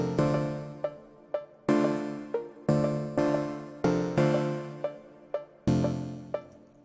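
Synth chords built with Ableton MIDI effects play alone in a loose rhythmic pattern, with sharp plucky attacks that decay quickly, about a dozen stabs and short notes over several seconds.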